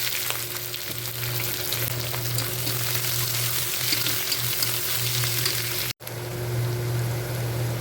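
Onions fry in hot oil in a wok with whole spices, giving a steady, close, continuous sizzle under a low hum, briefly cut off near the end before resuming.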